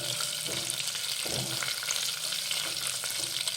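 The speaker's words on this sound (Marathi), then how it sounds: "दोन ते तीन हिरव्या मिरच्या बारीक चिरून घेतलेल्या आहेत त्या घालूयात आणि हे परतून घेऊयात" Ginger, bay leaves and chopped green chillies sauté in hot oil for Maharashtrian masale bhat, with a soft continuous sizzle and a few light stirring scrapes.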